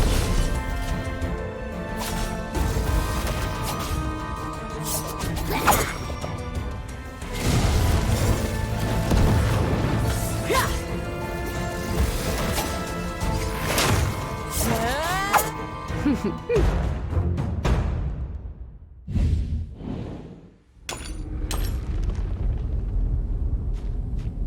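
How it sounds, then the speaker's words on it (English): A gapworm egg in Dragonheir is smashed and bursts with crashing, booming impacts amid dense game music and effects. There are loud hits around the 6-second and 16-second marks, then sharp smashes near 20 seconds. "Let me smash that gapworm egg. We can use its explosion to bombard the surrounding bewildered."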